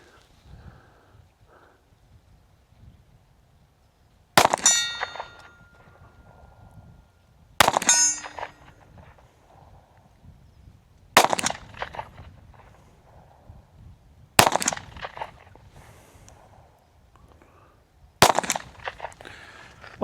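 SIG P365 SAS pistol fired at 50 yards outdoors: five sharp shots a few seconds apart, each with a short ringing tail, against a quiet background.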